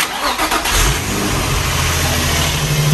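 A Nissan car engine runs after a new Bosch battery was fitted, a loud close steady hum with a rough low rumble and a slight rise in revs throughout.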